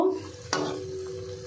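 Layered potato patties frying in oil, a soft steady sizzle broken by one sharp clack of a utensil partway through, brief and close with no talking.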